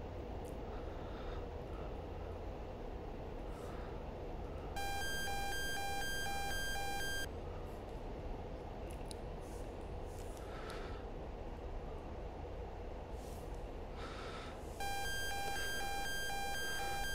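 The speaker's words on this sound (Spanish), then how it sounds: "Alarmas de que me están traqueando," In DCS, the F-15E's radar tracking warning alarm sounds twice as a steady high electronic tone, each run lasting about two seconds, over constant loud cockpit engine rumble.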